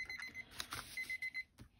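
A kitchen-style countdown timer beeps in a quick series of short, high electronic pulses, fairly quiet and close, with faint background noise and no talking.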